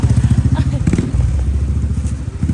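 A motorcycle engine rumbles close by as it is ridden with a passenger, a throbbing low drone with small clattering bumps, while a voice speaks over it.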